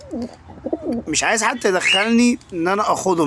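Pigeon and dove cooing close by, mixed with a voice talking over much of the sound.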